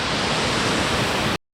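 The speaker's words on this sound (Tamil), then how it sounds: "இயற்கை சூழ்ந்த நீர்வீழ்ச்சி." A hidden waterfall surrounded by nature near Palakkad roars as a dense, steady rush of falling water, loud and close, then cuts off abruptly.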